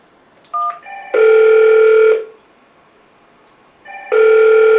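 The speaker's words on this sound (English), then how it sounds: "This is point-to-point SIP call demonstration from AP-EIP50N SIP emergency call phone to AP-IP120 SIP phone." An AP-EIP50N SIP emergency call phone places a point-to-point call to an AP-IP120 SIP phone: a few short keypad beeps, then two loud, clear electronic ring bursts separated by a quiet pause.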